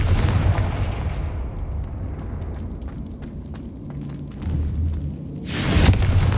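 Heavy boom of a Confringo blasting spell in Hogwarts Legacy, a loud close burst that decays into rumbling debris, followed by smaller crackles and a second sharp explosive hit near the end.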